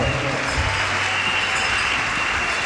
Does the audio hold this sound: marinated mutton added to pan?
no